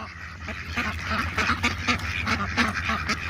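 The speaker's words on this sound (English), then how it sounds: "What are you feeding the ducks, Lala?" Several ducks quack repeatedly in uneven bursts while being fed corn at a park, fairly close and lively over steady low background noise, with no talk.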